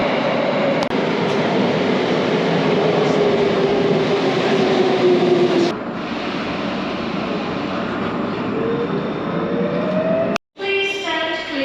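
Tokyo Metro Namboku Line subway train in motion, heard from inside the car: a steady loud rumble with rising and falling whine, a brief sharp dropout near the end, then the roar resumes.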